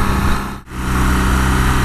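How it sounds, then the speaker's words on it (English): A BMW R nineT's 1170 cc twin-cylinder engine runs close by with a steady, throbbing drone. It dips briefly for a moment, then holds an even note again. "this is of course not a super high revving engine, and it's a relatively large twin at that, at 1170 cc's"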